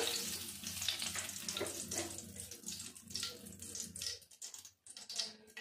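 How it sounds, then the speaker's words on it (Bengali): Bay leaves and a dry red chili tempering in hot oil, a steady dense crackling sizzle that carries throughout at moderate level, easing and thinning briefly near the end before picking up again. "আমি এবার ওই তেলে ফোড়ন দিয়ে দেব। দুটো তেজপাতা, একটা শুকনো লঙ্কা"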